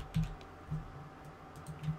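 Computer keyboard keys tapped while writing code, a few soft, quiet clicks in short bursts over a faint room hum.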